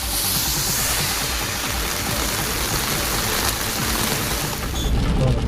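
Heavy rain pouring down steadily in the Vaniyambadi area of Tirupathur district, Tamil Nadu, a dense, continuous loud hiss of water with no voices, holding constant from start to finish.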